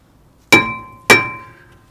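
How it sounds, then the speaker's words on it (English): A rubber mallet strikes a car's brake disc twice to free it, each hit a sharp ringing metallic clang that decays over about half a second, heard close with no talk. "To get off the brake disc, I always use a rubber mallet."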